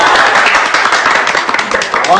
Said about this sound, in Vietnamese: Thôi vỗ tay đi.